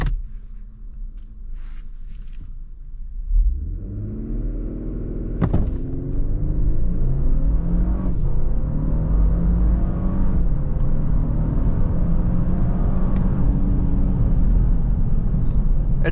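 A 2024 Lexus LX 600 idles quietly, then roars as it launches hard from a standstill in normal mode, revs climbing steadily through upshifts with a deep, sustained rumble.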